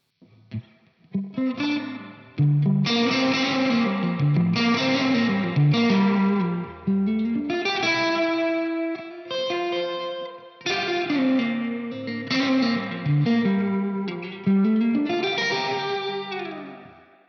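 Distorted electric guitar chords ring out through a TC Electronic Combo Deluxe 65 amp with reverb set at 8, each strum washing into a long, echoing tail.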